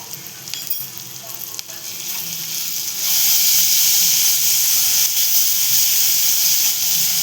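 Ginger garlic paste sizzles and fries in a hot pan, a steady bright hiss that swells louder partway through and keeps going with light stirring scrapes, with no talking.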